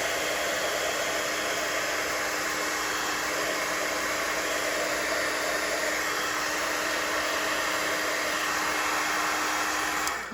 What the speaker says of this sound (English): we're just finishing up our heat embossing with the leaves here